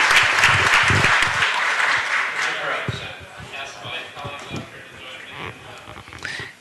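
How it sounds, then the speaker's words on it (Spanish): Loud applause from a city council meeting audience, dense clapping at the start that gradually thins and fades over several seconds, with voices murmuring underneath. "Vamos a darle una ronda de aplausos."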